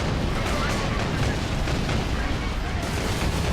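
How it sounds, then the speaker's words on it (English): An autocannon in the video game Warhammer 40,000: Space Marine fires in a loud, continuous barrage of heavy booming shots that saturates the whole moment. "So just like wading through orcs with this autocannon was really, really fun"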